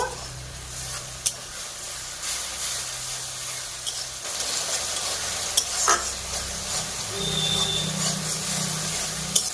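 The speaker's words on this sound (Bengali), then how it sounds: "কিছুক্ষণ মশলাকে কষে নেব" A masala of chopped onion, ginger-garlic paste, green chili, tomato and curry leaves frying for egg curry, a steady close sizzle with periodic stirring scrapes and clinks, no voices.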